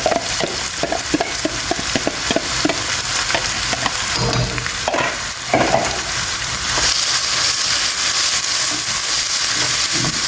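Three medium onions sizzle and fry in a hot pan with pine nuts while being stirred, a loud continuous hiss broken by scraping and clattering stirs, with bursts of steam partway through and no voices.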